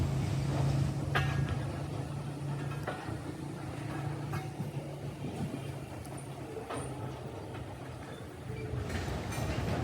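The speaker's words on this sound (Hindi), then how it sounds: "बैक वापस आ रही है ये वहाँ से फ्रेट ट्रेन।" Freight train reversing along the track at Badamibagh station, a broad steady rumble of rolling wagons with scattered wheel clicks and squeals, heard from fairly close by.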